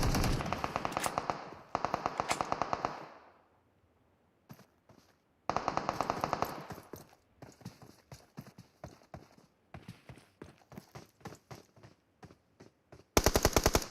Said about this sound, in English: Tokyo trying to shoot from the top ledge